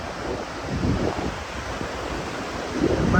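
Ulhas river in flood near Vangani, a steady rushing wash of fast water mixed with wind rumble on the microphone, continuous and fairly loud, with no voices.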